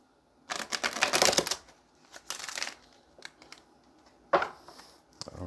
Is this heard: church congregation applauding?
no